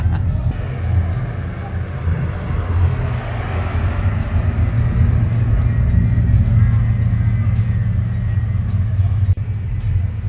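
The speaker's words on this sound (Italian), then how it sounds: "Ed ecco la prima Veyron in arrivo con Batman passeggero." A Bugatti Veyron arrives with a continuous deep engine rumble that holds steady and fairly loud, with a broad wash of road and wind noise over it.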